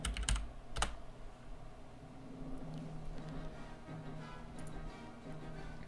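Computer keyboard typing while renaming a node in the Unreal Engine 4 editor: a few sharp, close key clicks near the start, then sparse soft taps over a low steady electrical hum.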